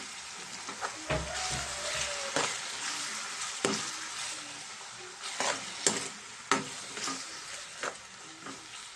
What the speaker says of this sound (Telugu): ఉల్లిపాయలు అయితే మనకి కొంచెం బ్రౌన్ కలర్లో వచ్చేదాకా ఫ్రై చేసుకుందామండి